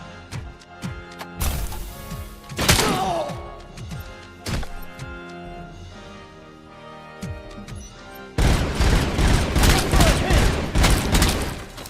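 Video game gunfire: sharp, loud shots and impacts in scattered bursts, then a dense sustained volley near the end, with some voice-like sounds mixed in.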